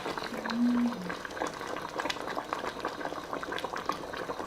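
Radish and doenjang stew bubbling in a pot: a constant close, dense simmer of popping bubbles, with a brief hum near the start.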